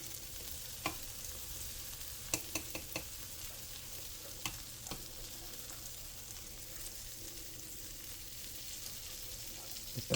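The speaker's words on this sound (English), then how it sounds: "we're going to scramble it a little bit now that it's been there" An egg fries and is scrambled in a pan for a breakfast sandwich, giving a steady sizzle and hiss with occasional sharp utensil scrapes and clicks against the pan.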